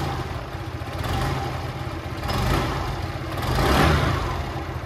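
A close Aprilia Storm 125 cc motorcycle engine is revved in three rising swells over a steady idling throb, each surge growing louder, the last the strongest.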